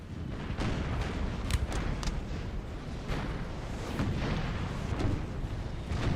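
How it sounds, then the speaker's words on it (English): Artillery fire in a Napoleonic Total War 3 battle at Auerstedt, a continuous rumble of cannon booms and distant blasts rolling under the din of combat. "This artillery just blasts them."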